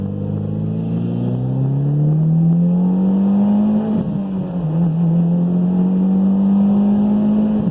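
A Mitsubishi Lancer Evo X with a manual gearbox accelerates onto an interstate, its engine note climbing steadily, dipping briefly at a gear change, then pulling again, loud and close from inside the car.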